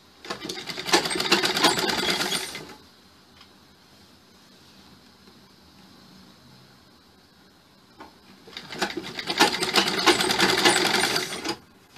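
A sewing machine stitches a blouse in two loud, steady bursts of rapid whirring, one at the start and one near the end, separated by a quiet pause of several seconds.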